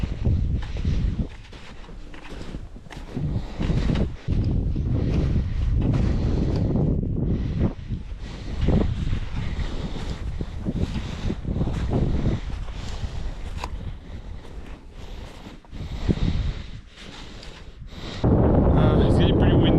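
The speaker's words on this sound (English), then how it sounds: "It's getting pretty windy." Strong winter wind on Malyovitsa mountain (2,729m) buffets the microphone in heavy, continuous gusts, roaring loudly with brief lulls, with footsteps and a voice faintly underneath.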